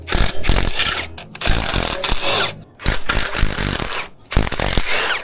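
A power tool fitted with turbo sockets removes bolts during an engine swap on a 2008 Express van, several loud close bursts of whirring impact rattling separated by short pauses.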